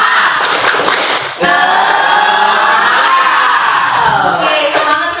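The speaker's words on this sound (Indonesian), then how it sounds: "Ya, tepuk semangat." A school class chants and shouts loudly together in a spirit cheer, a dense burst of children's voices that briefly dips, then swells into a sustained group yell.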